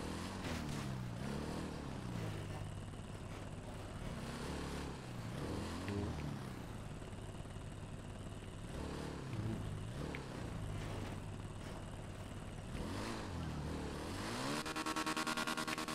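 Motorcycle engine in a video game, a continuous droning whine that rises and falls in pitch as the bike revs and eases off, moderately loud and steady with no talk.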